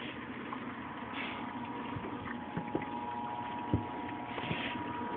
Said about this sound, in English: we got the keg washer in action going